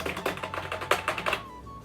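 Typing on a budget gaming keyboard priced under 1000 rupees gives a quick, irregular run of clicky keystrokes at close range, with a few louder presses, ending in quiet.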